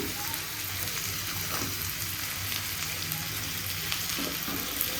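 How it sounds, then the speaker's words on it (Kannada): Dry fruits frying in hot ghee in a kadai, a steady close sizzle with soft bubbling crackle running throughout, no talk over it. "ಡ್ರೈ ಫ್ರೂಟ್ಸ್ ಒಗ್ಗರಣೆ ಹಾಕ್ಕೊಳ್ಳಿಕ್ಕೆ ಲಾಸ್ಟಲ್ಲಿ ಹಾಕ್ಕೋತಿದ್ದೀನಿ ನೋಡಿ"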